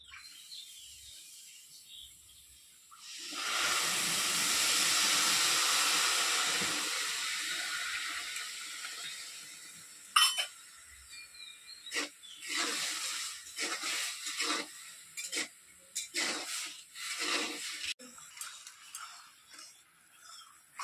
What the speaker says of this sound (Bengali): চিনির রসটা দেখুন ফুটতে শুরু করে দিয়েছে